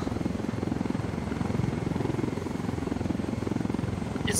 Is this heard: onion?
no